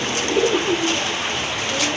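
Pigeons at a pigeon seller's stall coo softly a few times in a short, low burst, with faint ambient noise around them and no one talking.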